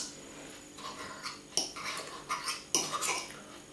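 A fork breaking up an omelette clinks and scrapes against a frying pan in a series of sharp, irregular taps, close by and otherwise quiet.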